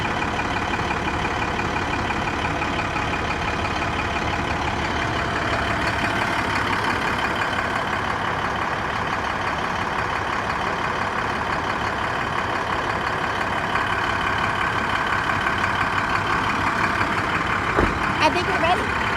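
A 2008 IHC 7500 tandem-axle dump truck with a 9.3L diesel engine and air brakes idles steadily and loudly up close, a constant deep rumble that never lets up, with a brief clank near the end.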